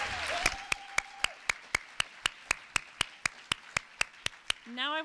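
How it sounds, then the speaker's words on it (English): Audience applause at a 20th anniversary gala: after a brief voice, sharp evenly spaced claps ring out in a steady rhythm, loud and close, with another voice starting at the very end. "get ready to applaud again"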